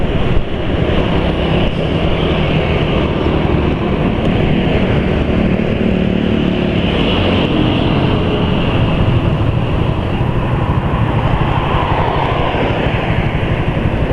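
A Suzuki Nex II scooter idling after frying fat was added to its engine oil and whitefat to its fuel, a continuous close rumbling drone that holds steady throughout with no talking.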